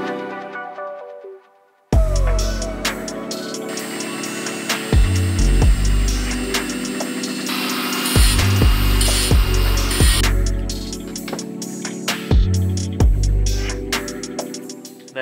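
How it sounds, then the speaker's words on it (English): A power drill whirs at high speed in long bursts, drilling holes in a carrier, stopping and restarting several times with thumps and clatter between runs. "I'm gonna have to drill new ones"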